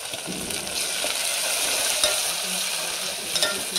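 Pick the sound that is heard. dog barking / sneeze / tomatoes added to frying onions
tomatoes added to frying onions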